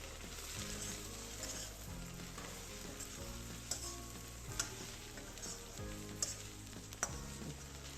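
Okra frying in a pan with turmeric and coriander powder, a steady soft sizzle running throughout while a spoon scrapes and stirs, with occasional sharp ticks of the utensil against the pan.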